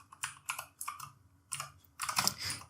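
Fingers tap on a computer keyboard in short, quick bursts of close, crisp clicks separated by brief pauses, heard alone without any talk.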